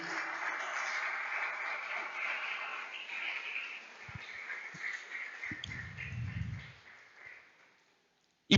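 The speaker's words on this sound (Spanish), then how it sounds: "Dale un aplauso a la presencia de Dios" A church congregation applauds steadily as a dense, even wash of clapping that holds for several seconds, then thins and dies away into silence near the end.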